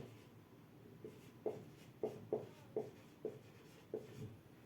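Chalk or marker scratches across a classroom board in short, separate strokes, about seven brief scrapes at an uneven pace, close and fairly quiet over a faint room hush.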